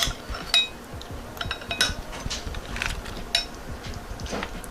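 A metal spoon scrapes and taps around the sides of a pan, scattered light clinks and scrapes at close range, fairly quiet, with no talk.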